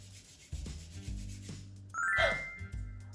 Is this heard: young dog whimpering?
no